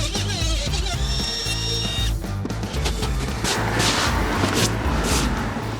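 A handheld trim router cuts mortises into wood through a taped-on template, giving a loud, continuous high-pitched whine with a steady cutting roar that shifts slightly in tone as the bit moves through the workpiece.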